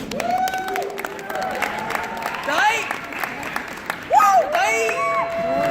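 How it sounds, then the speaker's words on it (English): Audience applause and cheering at an Asian Culture Night fashion show, scattered clapping with whoops and shouts from the crowd, mixed with voices calling out, moderately loud throughout. "Another round of applause for the boys."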